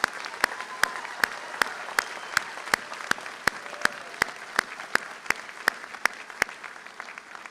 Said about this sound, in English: I'd like the auditorium to join me in giving a thunderous round of applause to our graduates for this morning